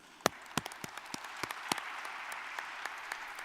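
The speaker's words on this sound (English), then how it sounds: "A big round of applause for yourselves." A parliamentary committee audience claps, a few sharp, distinct claps at first spreading into a light, scattered round of applause.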